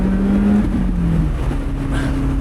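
A Lotus Elise engine on an open road, a loud close drone that rises in pitch, drops at a gear shift, then pulls again with steady road and wind noise.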